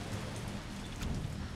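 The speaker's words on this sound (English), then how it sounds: "Damn, it's raining hard as shit out there, boy." Heavy rain pours steadily in the Resident Evil 3 video game, a dense, loud, unbroken hiss with faint rumbling underneath and no speech.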